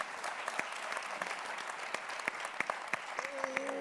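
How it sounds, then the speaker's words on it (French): Audience applause at a round-table event on African women in tech, a steady wash of many hands clapping with sharp individual claps poking through, fairly distant and moderate in level, with a brief tonal sound near the end. "vous pouvez l'applaudir, Méliane."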